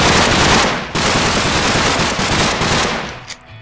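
A rifle fires rapid, continuous bursts in Minecraft, loud and close, the shots running almost without pause before cutting off and tailing away near the end.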